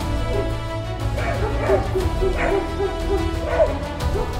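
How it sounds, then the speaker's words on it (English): German shepherds barking while chasing a mountain lion away from a property: a run of repeated barks and yips, moderately distant, over steady background noise. "these German shepherds made sure it didn't get anywhere near their owner and chased it away"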